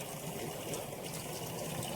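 A tap runs steadily, a constant rushing splash of water with no pauses.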